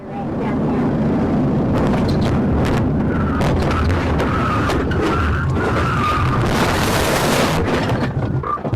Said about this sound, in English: The pit maneuver caused the suspect's vehicle to spin out and crash into a concrete barrier